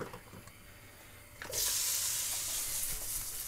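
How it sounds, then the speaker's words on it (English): Pancetta dropped into hot oil in a wok, a quiet kitchen background suddenly giving way to a loud, steady sizzle and crackle of frying that continues, close to the pan. "Let's fry up the pancetta first while the bain marie is getting hot."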